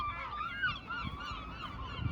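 Geese honking at Dublin Bay, a plaintive chorus of overlapping calls heard at moderate distance outdoors, continuous for a couple of seconds with no talk.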